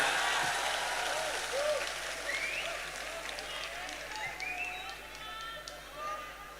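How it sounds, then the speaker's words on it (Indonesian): A crowd applauds, the clapping strongest at first and slowly fading, with a voice speaking over it. "Tepuk tangan untuk Indonesia."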